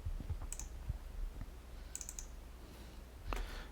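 A computer mouse clicks while opening a fillable form on a website, giving a few sharp, faint clicks spaced a second or more apart over a low, steady room hum.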